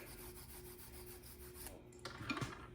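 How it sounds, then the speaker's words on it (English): Stainless steel brush scrubbing out holes in an engine crankshaft, a rhythmic close rasping rub in repeated strokes, then a brief louder scrape near the end, with no talk. "So I'm cleaning the holes out with a steel brush here."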